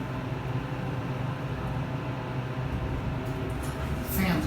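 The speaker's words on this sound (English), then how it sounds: "The fan's also fairly annoying," A hydraulic elevator's ventilation fan drones throughout in a constant low mechanical hum, steady and unchanging, with a faint rustle near the end.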